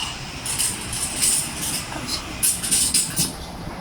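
A train runs steadily close by, a continuous broad rumble with bright high squeals or hisses flaring on and off, and no voices over it.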